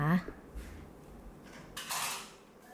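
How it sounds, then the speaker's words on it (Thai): Metal utensils scrape and clink against a pot while stir-frying crushed garlic in oil in a quiet kitchen, with a louder burst of stirring noise partway through. "จากนั้นผัดนะคะให้กระเทียมส่งกลิ่นหอมก่อนนะคะ"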